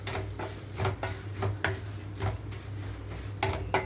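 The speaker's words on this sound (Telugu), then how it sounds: "ఇప్పుడు ఇందులోనే సేమియా వేసి వేయించుకుంటున్నాను లో ఫ్లేమ్లో నుంచి వేయించుకుంటున్నానండి" Vermicelli and grated carrot being fried on a low flame in a pan, with a spatula scraping and knocking against the metal in a quick, repeated rhythm close by and a faint frying hiss beneath.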